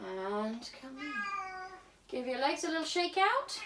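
A pet cat meows twice, close and clear, interrupting a woman giving calm exercise instructions; her voice continues around and after the meows.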